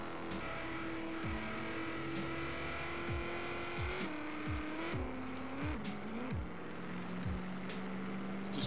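Lexus GS 350 F Sport in Forza Horizon 3 revving through repeated gear shifts, with tires squealing and skidding in long slides, loud and close throughout.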